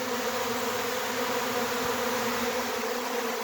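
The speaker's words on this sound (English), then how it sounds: "look, the amount of bees pouring in is just," A honeybee swarm streams into a hive, a dense, steady buzz of countless bees droning continuously at close range with no break.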